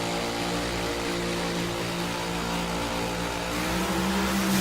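Top Alcohol Funny Car drag racers launch at the U.S. Nationals, a thunderous, continuous engine roar filling the air at full volume, swelling slightly toward the end with no speech over it.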